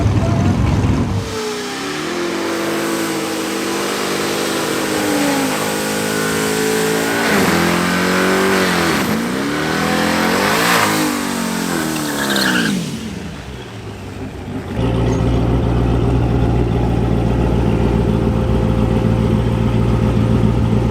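A twin-turbo sixth-generation Chevrolet Camaro at a drag strip revs loudly and repeatedly, the engine note sweeping up and down before dropping to a steady, throbbing idle.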